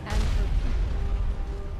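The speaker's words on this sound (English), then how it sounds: "Oh, it's just cannons that are firing." Cannon fire in the video game Skyrim, a loud low boom that opens the clip and rumbles on as a heavy, sustained battle roar.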